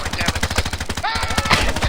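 Rapid automatic gunfire from Call of Duty Warzone Rebirth crackles in dense, loud bursts with brief pauses, while a player's voice talks over the shots.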